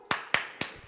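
Children's Sunday school rhythmic clapping game, Tepuk Yesus: three crisp, close claps in quick, even succession, each ringing briefly in the room.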